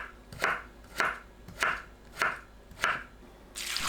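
A knife cuts potatoes into thin julienne strips on a cutting board, making five evenly spaced, crisp chops close up with short quiet pauses between them.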